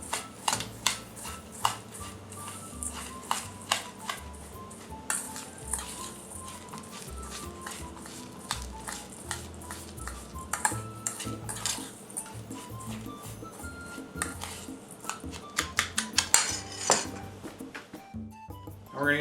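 A spoon stirs a breadcrumb mixture moistened with olive oil in a bowl, making repeated close clinks and scrapes against the sides in an uneven rhythm, with no voice over it.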